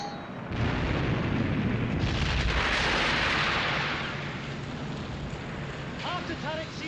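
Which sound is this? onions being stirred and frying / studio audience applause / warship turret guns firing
warship turret guns firing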